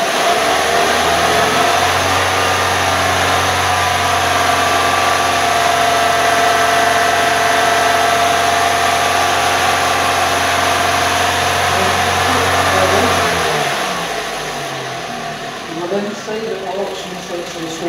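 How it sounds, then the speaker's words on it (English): A car engine runs steadily at a raised idle while warming to working temperature for an oxygen/lambda sensor test, holding a loud, even drone for about thirteen seconds before dropping away to quieter background noise. "Just rev the car up and then get the working temperature."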